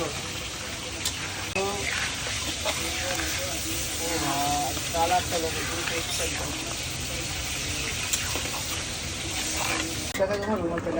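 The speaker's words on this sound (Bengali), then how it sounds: "এখন চলে যাচ্ছে আলুর ঝোলের ভিতরে মাছ মাছ মাছ" Pieces of rohu fish frying and sizzling in a pot of potato curry, a continuous crackling hiss with stirring, close and steady, while a person talks over it.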